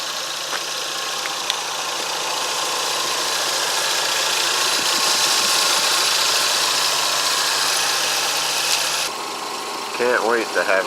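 A Lexus SC300's 2JZ engine idles steadily with a low, even hum and faint mechanical ticking; a voice briefly speaks near the end.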